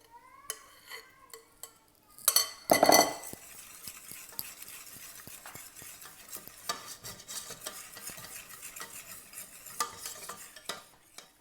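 A chocolate mousse mixture of melted chocolate and egg yolks is stirred in a bowl: soft repeated scraping and light clinks of the utensil, with one louder clatter early on, close and fairly quiet.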